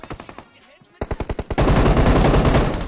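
PUBG Mobile gunfire: a string of sharp single shots, a short pause, then quicker evenly spaced shots that give way to a dense, loud sustained burst, all close and with no talk over it.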